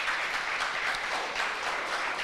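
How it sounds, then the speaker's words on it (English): A crowd at a Parliament event for the UN International Day for People of African Descent applauds steadily and loudly, a dense, continuous wash of many hands clapping close by. "Clap her, man, clap her."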